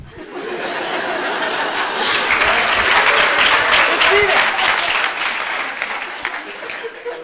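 Audience at a medical debate applauding, steady continuous clapping from a sizeable crowd with a few chuckles mixed in, holding at full level throughout before tapering slightly at the end.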